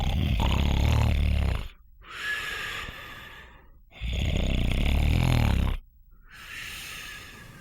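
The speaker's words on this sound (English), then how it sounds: "I'll be snoring in the background." A person snoring in slow, heavy cycles, each long rasping inhale followed by a quieter breathy exhale, repeating about every two seconds, close and loud with no talking.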